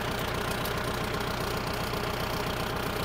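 A 2021 Kubota L5018SP tractor engine runs close and loud with a steady, even mechanical chug and knock throughout, with no talking.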